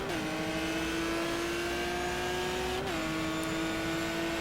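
Dodge Viper race car engine in the racing video game GTR 2, a steady loud drone holding a constant pitch, then a brief dip as it shifts near the end, with no talk.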